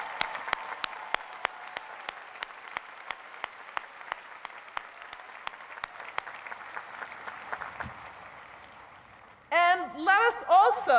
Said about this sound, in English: join me in applauding the Penn faculty for the honor they bring to their professions